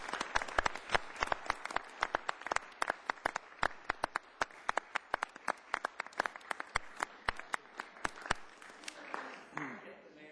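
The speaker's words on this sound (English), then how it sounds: "Let's give them a round of applause." Audience at a city council meeting applauds a nonprofit team, sharp individual claps from a modest group ringing out at an uneven pace and thinning toward the end, with a voice talking faintly underneath.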